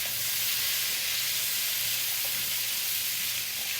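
Potatoes fry in a pan with a steady, close sizzling hiss that holds even throughout, with no voices over it.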